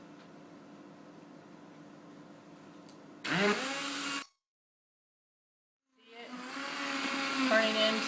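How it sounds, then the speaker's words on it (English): A coffee grinder whirs loudly as it grinds granulated sugar into powdered sugar, running in two bursts separated by a pause, with the second burst longer and building in strength. "coffee grinder"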